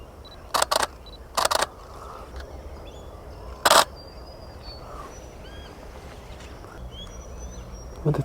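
A Canon 1DX II shutter fires in quick bursts of two or three frames while photographing ducks, with a single shot later, against quiet outdoor ambience and faint bird calls.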